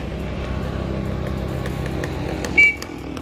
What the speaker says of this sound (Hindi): तो चलिए स्टार्ट करके आपको ये ट्रैक्टर बताते हैं